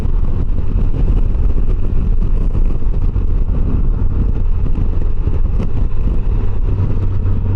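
A 2025 Can-Am Canyon three-wheeler's engine drones loudly and continuously while riding, with rough low rumble and wind buffeting throughout and no talk.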